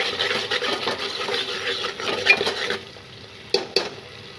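Spoon stirring tomato masala with Kashmiri red chili in a pan for pav bhaji, a soft steady sizzle with scraping strokes, then a pause and two sharp clinks of utensil against the pan, no talking.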